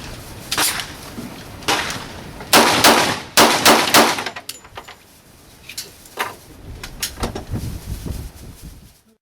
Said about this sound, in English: I hope you enjoyed the shooting at the beginning of the video here.